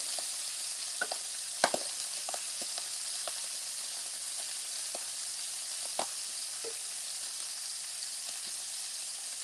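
Shrimp with tails left on frying in a pan for shrimp scampi, giving a steady, even sizzle throughout with a few faint pops and clinks from the pan.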